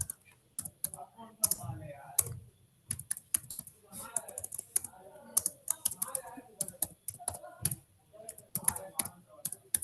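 Commands being typed on a computer keyboard into a terminal during a ROOT6 software installation, with quick irregular bursts of clacking keystrokes and pauses between them, close and clear with no talking.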